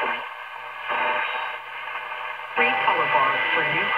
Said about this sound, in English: Another distant station.